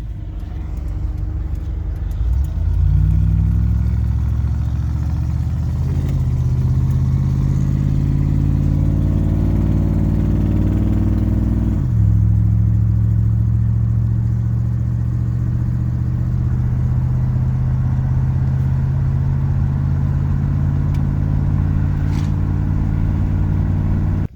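Engine noise from inside an old beater car driving in a three-car convoy that includes a Hudson, a steady low drone through two upshifts as the car accelerates, then cruising at an even pitch.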